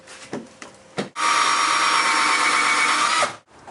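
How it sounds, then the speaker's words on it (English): A power drill bores into a dried resin trophy part. A couple of brief taps come first, then a loud, steady whine of about two seconds that stops abruptly. "now what we're going to do is drill this area here"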